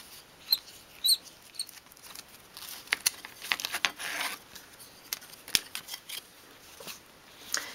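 Scissors snip and crunch through canvas around a small stitched 1/12th scale dolls house door mat, with irregular close cutting clicks and soft rustling, no talk.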